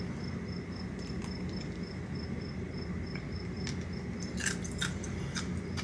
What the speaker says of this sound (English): That's just the ice I'm chewing on.